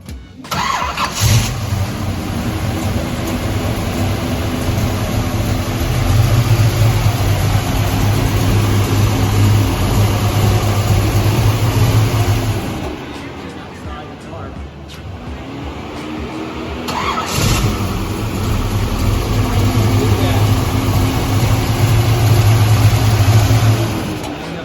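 A 1971 Chevy Chevelle engine cranking and firing up, settling into a loud, steady idle, then shutting down briefly before starting again and idling strongly.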